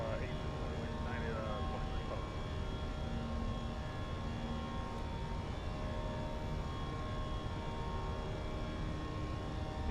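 An Airbus airliner in a flight simulator climbs after takeoff, its engines a steady, even drone with faint tonal whine, and muffled talk sits under the hum.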